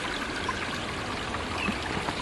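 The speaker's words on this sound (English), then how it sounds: "I have this water here that's running past" Shallow water runs past a few feet away, a soft continuous trickling babble with small splashes, steady and moderately faint throughout.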